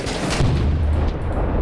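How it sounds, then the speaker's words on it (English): Mortar fire in the combat video game Six Days in Fallujah, heard as a dense, heavy rumble of explosions with low booming energy sustained through the moment, close and loud with no speech over it. "Yes, that's definitely mortars."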